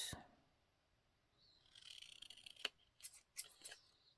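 Scissors snipping through the outside edge of a paper journal card, a quiet lead-in followed by a quick run of crisp, close cuts and sharp snaps near the end.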